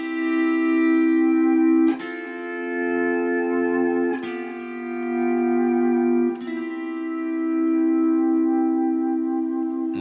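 A sustained pedal steel guitar chord on strings 5, 6 and 8 with no pedals or knee levers rings out, swelling and sliding slightly, restruck about every two seconds with a soft attack and long, smooth sustain.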